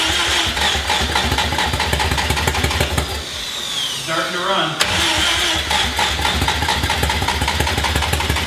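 A Datsun 240Z fitted with a 2.3 engine cranks and fires, settling into a loud, rough, close idle that briefly cuts out and restarts, running steadily under occasional voices.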